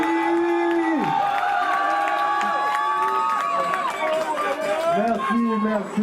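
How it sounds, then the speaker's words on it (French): Crowd at a French rap battle (Marco vs Cokesqueez, Verbaligue) cheers and applauds after a round, with loud whoops, shouts and overlapping voices that stay near and continuous throughout. "On applaudit!"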